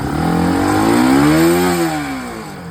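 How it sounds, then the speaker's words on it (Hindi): A Bajaj Pulsar RS 200 motorcycle engine, just repaired after a fuel pump problem that had it misfiring, revs up close by and loud, rising in pitch and then easing back down in one smooth throttle sweep, with no talking. "ये देखो बिल्कुल फर्स्ट क्लास बाइक स्टार्ट हो गई है"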